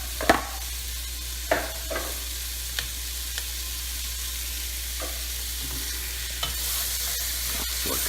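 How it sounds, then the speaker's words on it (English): Diced potatoes sautéing in a pan for Manhattan clam chowder, a soft continuous sizzle with several sharp utensil scrapes and taps as they are stirred, close and otherwise quiet. "I'm going to saute that a little bit for a while, along with"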